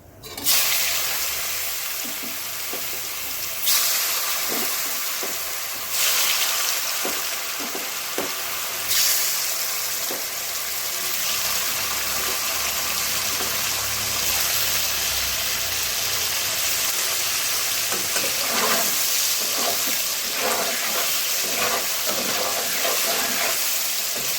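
Paneer sizzles steadily in hot oil seasoned with salt and turmeric, a dense continuous frying hiss with occasional clicks and stirring knocks, loud and close throughout with no talking.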